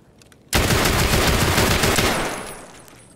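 Burst of automatic gunfire in the shooter game Escape from Tarkov, a sudden loud rapid string of shots lasting about two seconds that then trails off.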